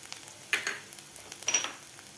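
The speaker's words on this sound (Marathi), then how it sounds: "जास्त फ्राय करायचं नाही व थोडंसं फ्राय करायचं" Spices such as coriander powder sizzling briefly in a pan while making ragda chaat, with a few soft crackling bursts standing out over a quiet, faint background.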